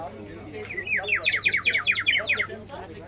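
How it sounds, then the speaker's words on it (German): A water bird whistle, filled with water, trills in a quick run of rising warbled notes, fairly close, with a low steady hum underneath, at a medieval festival. "Das ist Wasservogelpfeife."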